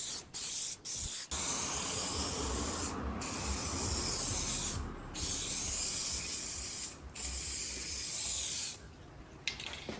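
An aerosol can sprays clear coat onto car paint in long continuous hissing bursts with brief pauses between them, loud and close; the spray pattern is inconsistent and cuts out.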